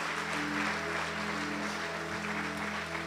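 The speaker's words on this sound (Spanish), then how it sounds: "Un aplauso por su valentía." Steady applause from a church congregation for a brave woman, a dense even wash of clapping that holds throughout, heard at a moderate distance over a constant low hum.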